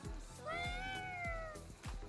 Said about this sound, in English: Oh, the little meows.